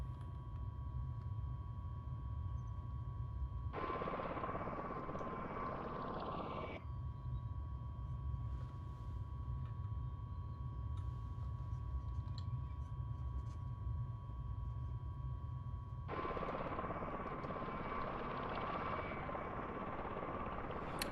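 A tiltrotor aircraft engine in a flight video game gives a steady, continuous droning whir. Its tone shifts and brightens in two long stretches before settling back to the same even hum.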